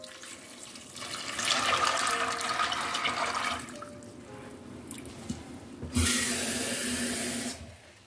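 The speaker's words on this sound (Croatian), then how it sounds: "Litar vode sam nalila" A litre of water pours into a pot holding 700 grams of white beans, a steady rushing stream that starts and stops, and a louder burst near the end.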